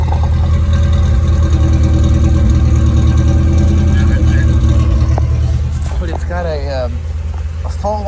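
A truck engine with a long tube header, full 2-inch exhaust and Rumble brand muffler idles with a loud, steady, deep rumble close by, while someone talks over it.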